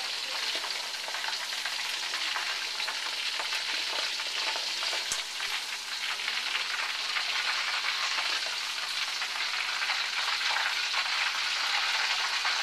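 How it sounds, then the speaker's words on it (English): Jumbo shrimp and scallops flash fry in hot oil, a dense, loud, continuous bubbling sizzle that holds steady throughout, close up with no talking. "after you flash fry it like this"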